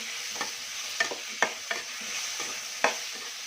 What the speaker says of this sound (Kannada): ಈಗ 1-2 ಟೊಮೊಟೊ ಹಾಕ್ಕೊತಾ ಇದ್ದೀನಿ ನಾನು. ಮಿಕ್ಸ್ ಮಾಡ್ಕೊಳ್ಳಿ.